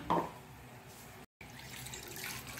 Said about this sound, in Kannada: ಇದಕ್ಕೆ ಸ್ವಲ್ಪ ನೀರು ಹಾಕೊಂಡು ನಾವು ಇದನ್ನು ನೀರು ಮಾಡಿ ಇಟ್ಟುಕೊಳ್ಳೋಣ.